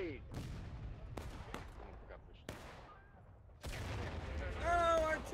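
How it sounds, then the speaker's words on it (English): Artillery and gunfire boom across a battlefield in War of Rights, with several sharp, separate blasts followed by a louder, denser burst of shots near the end, while voices talk in between. "Oh, artillery."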